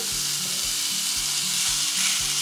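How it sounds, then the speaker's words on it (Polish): Marinated turkey meat fries in an oiled pan with a loud, continuous sizzle, and a rhythmic low scraping or stirring repeats about twice a second underneath. No one speaks. "czekamy, aż patelnia się rozgrzeje i smażymy"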